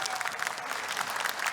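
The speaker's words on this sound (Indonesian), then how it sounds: "Tepuk tangan dong." Audience applause at the Pemimpin Daerah Awards 2024 ceremony, a short burst of dense, even clapping from a hall full of people.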